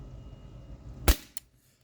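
A single sharp shot from an H&K VP9 T4E .43 Umarex pistol firing rubber steel balls, loud and close, followed by a fainter click a moment later before quiet.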